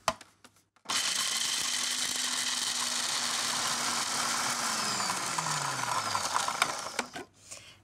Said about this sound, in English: I'll place the pistachios into the food processor. Lid goes on, and I'm just going to blend these until they become a fine crumb.